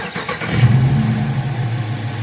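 A Dodge Challenger or Charger with a 5.7 or 6.4 V8 and a cylinder 4 misfire (P0204/P0304) cranks briefly with a rhythmic starter chug, then catches and settles into a loud, close, steady idle rumble.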